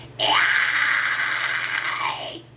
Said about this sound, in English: that's how I'm doing the high screams anyways